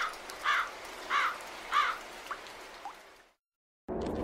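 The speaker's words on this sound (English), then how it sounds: "The magpies and crows happily flew up to the sky." Magpies and crows caw in a steady series of about four calls at an even rhythm, clear and moderately close. A short silence follows, then a burst of broadband noise.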